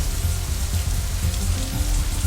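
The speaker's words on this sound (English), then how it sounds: "it's still raining outside when we exit the Shanghai, though it seems to be letting up a little" Steady rain falling outside as a visual novel sound effect, a dense, even hiss of drops on surfaces with no break or talk.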